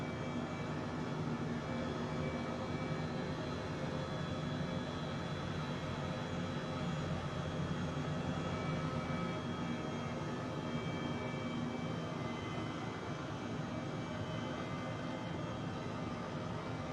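A modded H135 helicopter in Microsoft Flight Simulator drones steadily at takeoff, a loud, unbroken rotor and turbine roar holding level throughout with no talk.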